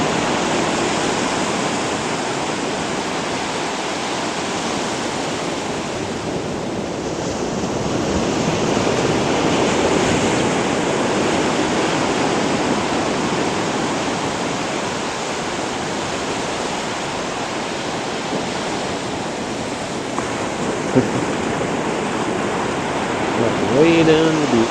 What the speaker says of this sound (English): Just enjoy a little bit of ocean.